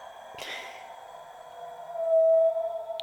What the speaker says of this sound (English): My dog, he tries to howl,